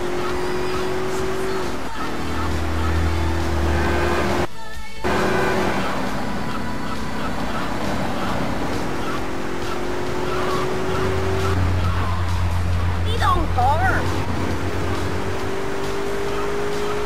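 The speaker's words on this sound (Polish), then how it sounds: "Ten samochód jest szybki" A car driving in Grand Theft Auto III, engine droning steadily with gear shifts and a brief dropout, tire skids and screeches late on, other traffic and game noise around it.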